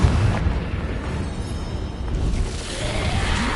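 Confringo fire spell blasts in Hogwarts Legacy, a dense rumbling explosion with crackling burst that fills the whole stretch, loud and close with a sustained low roar and no talk.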